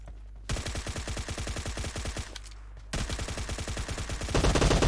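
Automatic gunfire in PUBG Mobile, rapid rhythmic bursts of shots loud and close, a brief pause midway before another sustained volley that swells louder at the end.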